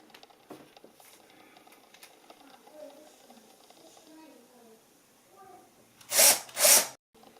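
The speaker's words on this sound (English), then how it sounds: "Drill a hole right there." A power drill bores a hole into a wall while hanging IKEA shelving, two short loud bursts of whirring near the end, following a stretch of quiet handling noises and soft movement.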